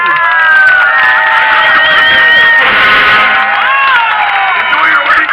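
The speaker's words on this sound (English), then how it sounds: "Now everybody clap for the wedding." Passengers on a Chicago River tour boat cheer and shout for a wedding party, a loud continuous crowd roar with whoops and high-pitched voices, little distinct clapping.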